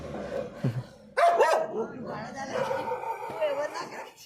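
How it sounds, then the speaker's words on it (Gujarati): A pet female dog barks at a vehicle in a few sharp, fairly close barks, mixed with people talking and some chuckling. "ગાડી જ બસી રહી કૂતરી."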